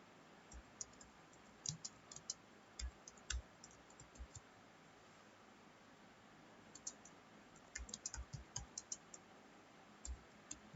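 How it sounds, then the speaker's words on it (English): Faint, sparse clicking of computer keyboard keys as an HTML program is typed into Notepad, coming in short bursts with quiet gaps between them. "Now we'll type the program."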